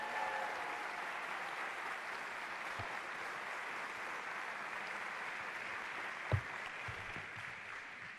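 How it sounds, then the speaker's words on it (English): Town hall audience applauding for New York City Mayor Bill de Blasio, a steady, fairly quiet and distant wash of clapping that runs evenly throughout, with one sharp knock near the end. "please give our Mayor, Bill de Blasio, a big round of applause"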